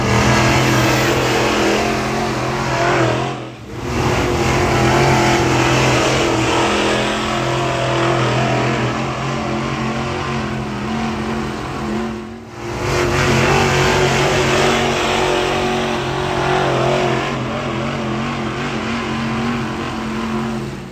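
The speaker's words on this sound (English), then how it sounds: "They're packing the track right now, so we're going to be going out for hot laps here soon." Dirt track modified race cars packing the clay before hot laps, a loud continuous engine roar with revving and passing cars, two brief dips as cars pass close, no talking.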